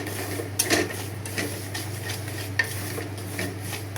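Semolina halwa being fried and stirred in a pan, with steady scraping strokes and a few sharper clinks over a low constant hum.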